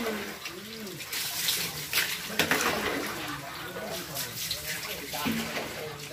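Strong water gushes and splashes continuously, while voices talk over it and a bird coos faintly.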